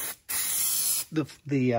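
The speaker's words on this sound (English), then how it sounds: "A little spray adhesive goes a long way towards helping the" Spray adhesive hissing from an aerosol can onto wool insulation in a van ceiling, one long loud burst followed by shorter spurts, with a voice briefly in between.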